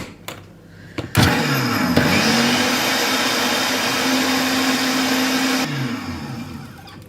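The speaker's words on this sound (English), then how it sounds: "put it on the blender, and it'll clean itself" A kitchen blender filled with water and cleaning products runs to clean itself, starting with a sharp click and whirring into a loud, steady roar for several seconds before winding down with a few clunks.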